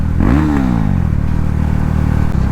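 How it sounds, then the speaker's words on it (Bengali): A KTM Duke 390 motorcycle engine revs sharply under the throttle, its pitch rising and falling in one quick sweep before settling into a steady, loud idle-like drone. "throttle reaction"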